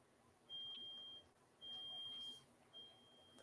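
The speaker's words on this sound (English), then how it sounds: "That's the fire alarm." Fire alarm sounding three long, high electronic beeps with short gaps between them, fairly faint indoors with no talking.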